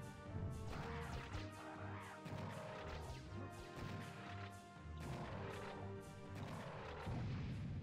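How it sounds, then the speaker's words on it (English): Repeated heavy cannonball crashes and booming impacts in the video game Serious Sam over a steady game music track, several hits spread across the clip. "That's a cannon ball."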